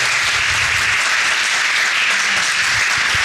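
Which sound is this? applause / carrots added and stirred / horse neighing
applause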